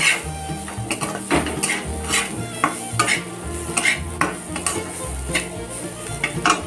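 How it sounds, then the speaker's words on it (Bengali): Pan frying bitter gourd with repeated scraping and stirring strokes of a utensil against metal, a faint sizzle underneath, close and rhythmic. "পিঠা করলা ভাজা"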